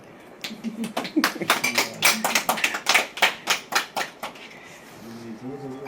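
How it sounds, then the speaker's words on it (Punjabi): Audience clapping at a local ceremony honouring a bronze medal win, a burst of quick hand claps that swells and then fades away, with a voice speaking before and after. "ਲਗਾ ਦਿਓ ਤਾੜੀ"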